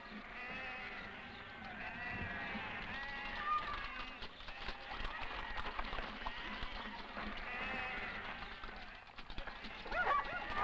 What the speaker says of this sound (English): every able-bodied man and boy works at bringing down into the communal paddocks close on 1 million sheep